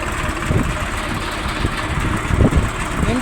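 A 4x3 water pump with a 42-metre head runs off the PTO of a 735 tractor, giving a steady mid-pitched engine drone with lumpy pulsing thumps, close up and without talk.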